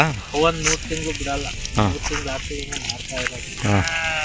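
Several sheep bleat repeatedly in wavering, nasal cries over a busy background of talking voices and farm noise.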